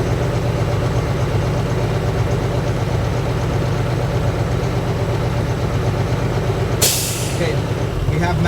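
A Class A truck idles with a loud, steady diesel rumble while its air brake system builds pressure, ending in a sharp burst of hissing air near the end.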